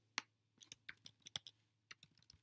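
Keys clack on a computer keyboard in a quiet room, one isolated tap followed by a quick irregular run of clicks, a brief pause, then a few more keystrokes, close and crisp.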